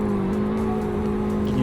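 Upgraded car engine in the Roblox game Greenville, a steady loud engine drone with a sustained tonal hum, heard alone and close.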